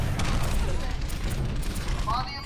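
Rapid Overwatch gunfire crackles continuously through the game's loud, busy mix of booms and effects, with talk running underneath.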